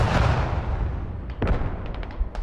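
Tank cannon fire in the video game Squad: a heavy booming blast at the start decaying into rumble, followed by a few sharper distant reports and pops.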